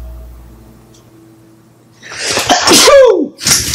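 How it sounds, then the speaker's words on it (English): After a quiet pause, one sharp, close sneeze bursts out, followed by a brief breathy trailing sound. "excuse me, I'm gonna sneeze."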